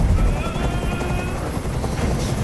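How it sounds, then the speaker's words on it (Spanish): Helicopter in the video game Detroit: Become Human on PS4 drones loudly and steadily, a dense rotor roar filling the scene with no voices over it. "¡Es que es helicóptero! ¡Es el ruido!"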